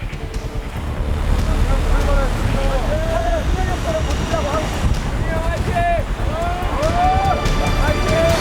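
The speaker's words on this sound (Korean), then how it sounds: "점점 더 기승을 부리는 파도와 빗줄기 그리고 바람." Storm at sea in the Korea Strait: wind roars and waves wash steadily while rain beats down, and shouting voices rise over the noise throughout.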